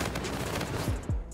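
Rapid gunfire from the RPR Evo Bosozoku in the Infinite Warfare video game, a quick burst of shots with a couple of sharp low thumps near the end.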